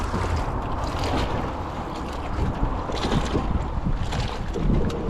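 Strong wind gusts across open water heard from a boat, a steady roaring rush with choppy low buffeting on the microphone throughout and no speech.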